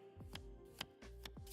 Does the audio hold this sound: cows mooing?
no